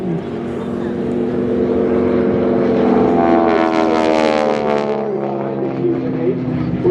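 A propeller aerobatic airplane's engine roars through an aileron roll at an airshow, a sustained loud drone that rises in pitch and intensity midway, with an announcer's voice faintly underneath.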